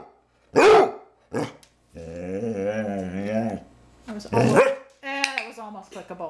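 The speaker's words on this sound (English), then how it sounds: "we just have to figure out how to do it without the whining and barking" A dog named Roy whining and barking in short bursts, sharp barks between a long drawn-out whine, close and loud, with people talking in between.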